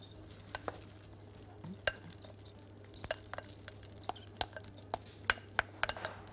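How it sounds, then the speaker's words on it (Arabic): Liver and kidneys being sautéed in a pan, a quiet steady sizzle under a low hum, punctuated by irregular metallic clinks and scrapes of a utensil stirring, growing more frequent toward the end. "وهنا هشوح الكبده"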